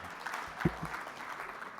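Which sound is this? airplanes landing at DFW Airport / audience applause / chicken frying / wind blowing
audience applause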